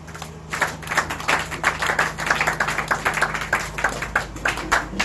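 A church congregation claps steadily in a rhythmic beat, a dense wash of hands filling the room for several seconds, with a low steady hum underneath.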